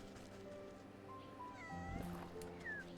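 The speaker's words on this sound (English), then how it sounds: "Wait, that's a cat." A cat in the game Wytchwood meows a few times in quick succession, with short rising and falling cries over steady background game music.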